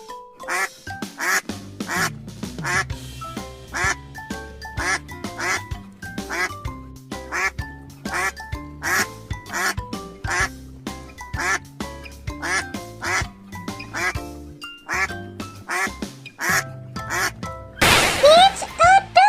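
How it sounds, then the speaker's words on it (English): A duck quacks loudly and steadily in a children's animal-naming piece, repeated rhythmic quacks in rapid succession from close by, with a brief louder burst near the end. "It's a duck."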